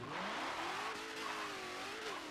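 A 2018 Dodge Demon F&F Edition drag build in Forza Motorsport 7 revs hard at a brake-boost launch in first gear, a loud continuous engine howl with rising and falling pitch and a hint of tire squeal.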